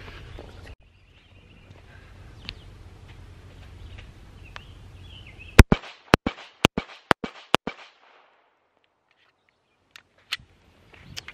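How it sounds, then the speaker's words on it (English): Handgun shots fired at a target from 5 yards, comparing a Glock 43X and a Sig P365, ring out as a quick run of about six sharp, loud cracks at an outdoor range, with a couple more isolated shots later. "I'll go back 5 yards and you know, shoot this thing for you, probably about 5 rounds."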